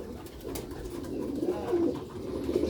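Pigeons of the black-faced Sialkoti breed cooing in soft, continuous low murmurs throughout, fairly close, with no talk.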